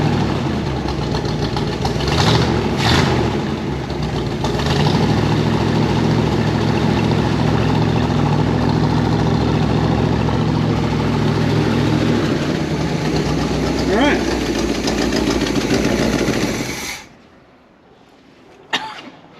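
An old van's engine idling, smoking and with an exhaust leak: a continuous close rumbling idle with a rough, uneven throb and occasional puffing bursts, running for most of the stretch before cutting off near the end.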